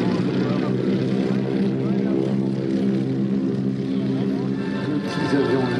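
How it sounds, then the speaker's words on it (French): A Lockheed Electra and a Beech 18, small twin-engine, twin-tail propeller airliners, drone past at an air show, their engines a loud, continuous throbbing rumble, with someone talking over them. "le Lockheed Electra et derrière lui le Beech 18."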